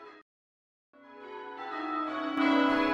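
Church bells ringing rounds in a tower, sustained metallic tones that swell and build after a brief silence, growing louder and fuller as further bells strike, with no voices.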